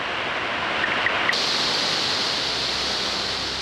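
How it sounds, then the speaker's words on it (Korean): Steady, broadband roar of Baker's Falls in Sri Lanka, heard up close as one continuous wash of falling water with no pauses. "거대한 폭포 소리가 가까이서 들려요."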